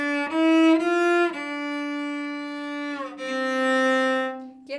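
A cello plays a short slurred passage of sustained bowed notes with shifts between pitches, clear and close with no talking.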